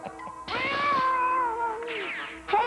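A cartoon cat meows in a long, drawn-out wavering cry that bends up and down in pitch, followed by a second, shorter yowl near the end, loud and close with no talking.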